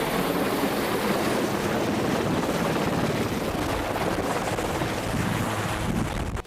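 A helicopter close by drones with a heavy, continuous rotor roar and rushing wind buffeting the microphone, steady and loud throughout with no voices cutting through.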